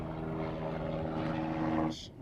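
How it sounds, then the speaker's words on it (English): Helicopter searching the area for a crocodile near Stradbroke Island, a steady loud rotor and engine drone close overhead, holding even before cutting off sharply near the end. "You'll see this chopper up here."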